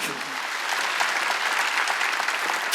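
Dense applause from a congregation fills a church during a Wednesday worship service, a steady wash of many clapping hands that is loud and close and runs throughout.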